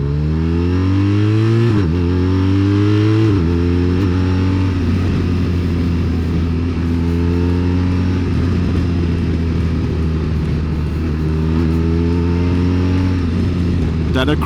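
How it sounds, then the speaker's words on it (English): BMW R1250RT touring motorcycle from 2021 fitted with an Akrapovic exhaust, revving up through rising engine tones that drop back and climb again, loud and close over a continuous engine drone. "That Akrapovic exhaust really makes a difference here. That is one beautiful sound."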